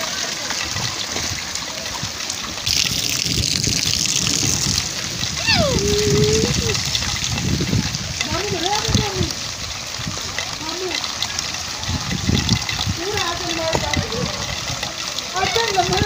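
Dirty flood water from rain splashes and sloshes in a village, with steady close splashing and trickling throughout while adults and someone talk over it.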